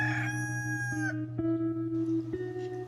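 A rooster crows nearby in a long, harmonic cock-a-doodle-doo, followed by a couple of shorter clucking calls, loud and clear with no speech.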